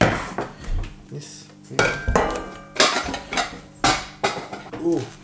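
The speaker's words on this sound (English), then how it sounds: "plate silverware." Plates and metal silverware handled in a home setting, a series of clinks, clatters and scrapes in uneven bursts, fairly close and loud, with brief voice sounds between.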